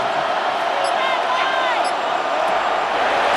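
A stadium crowd roars in a Madden NFL 26 simulation between the New England Patriots and Philadelphia Eagles, a steady loud wash of cheering building ahead of third down, with no break in the noise.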